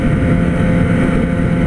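A Yamaha XJ four-cylinder motorcycle cruising on a highway, a steady loud engine drone with heavy wind rush continuing without a break.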